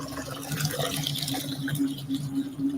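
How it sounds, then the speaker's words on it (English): Steady splashing and trickling water from a tap runs continuously at moderate loudness over a low hum, with no talk. "That water."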